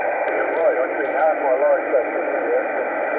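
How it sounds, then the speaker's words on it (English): Radio interference on a Yaesu FT-817 portable radio hums steadily, with a faint garbled, voice-like warble sliding up and down the band beneath it and a few short crackles. "we've got this incredible noise going up and down the band"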